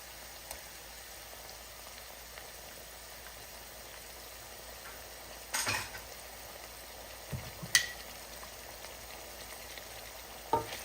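Crushed ginger and garlic paste frying in a pan for a South African prawn curry, stirred through a faint, steady sizzle with a few soft scrapes of the spoon.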